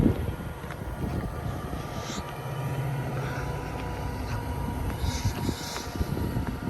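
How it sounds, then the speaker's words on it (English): Metra commuter train in Manhattan, Illinois, rolling slowly toward a coach yard: a steady low rumble heard from a distance on a cold, open site, faint and continuous, with no talk. "here's the Metra train. About to go ahead and park over all the way at that coach yard."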